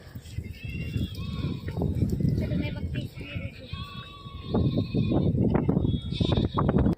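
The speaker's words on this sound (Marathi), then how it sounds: "किती छान मेंढ्या दिसतात" A flock of sheep with a shepherd bleat repeatedly over a busy outdoor farm-field background with a low rumble, and birds chirp faintly high above.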